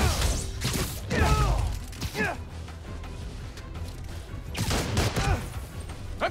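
Gunfire from a gun-toting enemy in the PS5 game Spider-Man: Miles Morales, with rapid bursts of shots and crashing impacts coming in clusters at the start and near the end, mixed with game effects.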